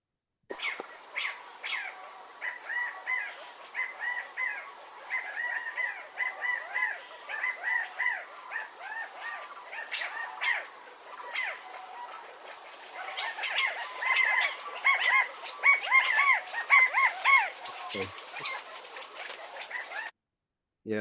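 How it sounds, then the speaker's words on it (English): A recording plays repeated California quail calls, short clucking and crowing notes that come in quick bursts, moderately loud and alone with no voices, and grows busier toward the end. "you can't miss the California quail because it is the California bird"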